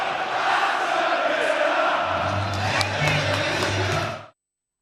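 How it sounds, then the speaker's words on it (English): A large football stadium crowd at an Aston Villa versus Bayern Munich European night roars in a dense, sustained wash of cheering and chanting, with a low rumble joining partway through before it cuts off. "Crowd kind of amazing."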